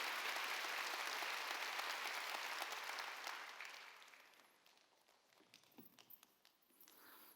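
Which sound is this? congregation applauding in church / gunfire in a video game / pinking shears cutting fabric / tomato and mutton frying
congregation applauding in church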